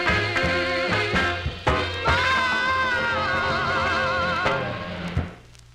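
An R&B single from 1955 on Duke Records plays continuously, with a steady band groove, strong rhythmic accents and a held vocal line, cutting off near the end.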